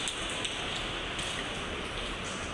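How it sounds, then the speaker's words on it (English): Heavy rain pouring down steadily outdoors among trees, a dense unbroken hiss that stays loud and even throughout with no voices. "here is huge rain"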